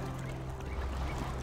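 Turkeys in the farming game Dinkum give a steady, dense run of gobbling calls inside a fenced pen, a continuous birdy clucking texture with no talk over it.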